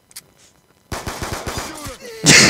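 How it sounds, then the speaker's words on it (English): Gunfire in Black Ops 2: a sharp burst of rapid shots under excited voices, then a louder blast of noise at the end, with the room talk continuing. "Shoot off some bullets or else."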